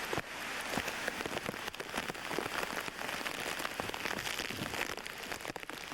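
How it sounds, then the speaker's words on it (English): Wind and rain from Hurricane Bob in 1991, heard outdoors beside a house: dense, steady rain patter with gusty rushing wind, loud and continuous, no voices. "But we do have quite a bit of wind and rain"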